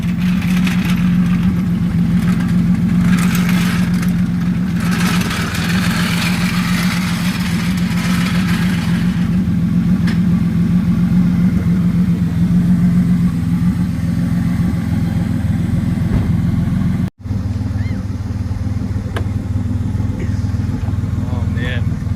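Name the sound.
turbocharged V6 Mustang engine running and revving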